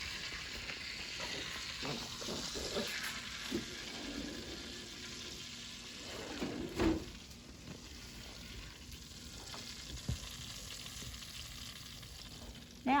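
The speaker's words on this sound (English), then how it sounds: "And you can see and hear the sizzle." Chicken parmesan frying in a pan, giving a steady close sizzle and crackle throughout with a few brief louder pops and clinks, no talking.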